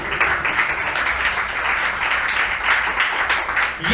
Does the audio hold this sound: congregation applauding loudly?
yes